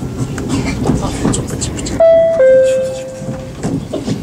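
Frecciarossa high-speed train running on the rails between Rome and Florence, heard from inside as a steady loud rumble, with a two-tone onboard announcement chime midway and people talking over it.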